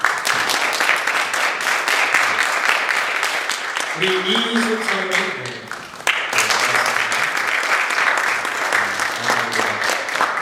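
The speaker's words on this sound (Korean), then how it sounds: "일어나 박수로 환영하겠습니다" Church congregation claps together in sustained applause for several seconds, briefly dipping as someone speaks over it, then swelling again into full clapping.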